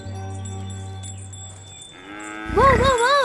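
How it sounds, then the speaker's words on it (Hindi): A buffalo lets out a loud, close moo that rises and wavers near the end, after a quieter stretch of low humming tones. "अरे ये तो सिर्फ भैंस है, बफेलो"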